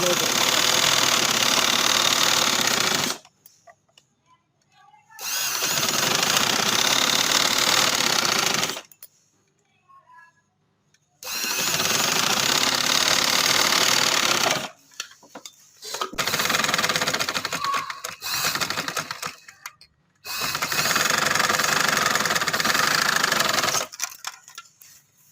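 A sewing machine stitching trouser fabric runs in several long bursts of steady mechanical whirring, each lasting a few seconds, with short silent pauses between them. It is loud and close, and no one talks over it.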